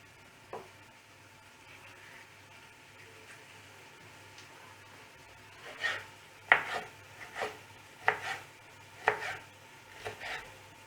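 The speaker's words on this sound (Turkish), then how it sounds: "Şimdi biberlerimi de doğruyorum." A run of sharp knife chops through peppers on a cutting board, about eight evenly spaced strikes in the second half after a quieter start.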